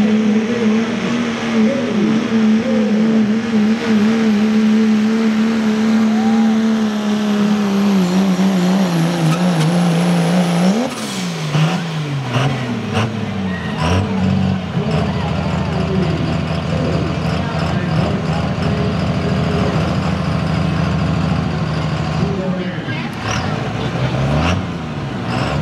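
A pro stock diesel truck at a truck pull winds up loud and sustained, its engine roar climbing and holding steady near the microphone, with crowd and announcer talk mixed beneath.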